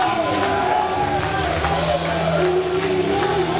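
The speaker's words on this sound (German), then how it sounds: "Hier ist Leon van Gasteren, wird gefeiert vom Publikum wie eh und je." Wrestling audience at an event in Eutin cheering and shouting for wrestler Leon van Gasteren, a steady, loud crowd roar with babble throughout.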